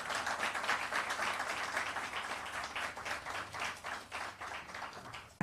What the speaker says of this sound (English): I think I want you to give her another round of applause